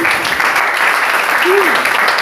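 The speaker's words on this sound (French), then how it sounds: "Applaudissons pour le Seigneur." A church congregation applauds loudly and steadily at close range, a dense wash of clapping with a voice briefly rising over it.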